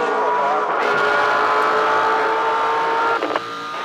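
A 2007 V8 Supercar eases off through a mid-corner at the Desert 400 race, its loud, sustained engine note holding steady before dropping briefly near the end.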